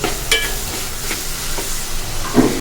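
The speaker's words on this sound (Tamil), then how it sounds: "தேவையான அளவு உப்பு சேர்த்து நல்லா வதங்கட்டும்" Salted eggplant and tomato fry in oil with a continuous sizzle and hiss, punctuated by several stirring scrapes and a louder clack near the end.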